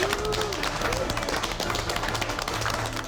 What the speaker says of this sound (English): how about a big round of applause for those delicious dishes from these delicious judges